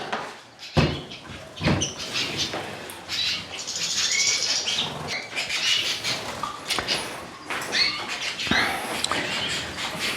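Small birds flutter and flap their wings inside an indoor bird room, repeated quick bursts of wingbeats near and far, with scratchy rustles and light knocks between them.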